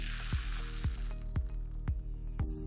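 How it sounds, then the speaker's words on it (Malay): Kuih loyang batter fries in hot oil with a steady bright sizzle, while regular soft thuds recur about every half second as the brass mold is dipped and jiggled. "Sedang-sedang elok je untuk goreng loyang sampai warna tu jadi keemasan."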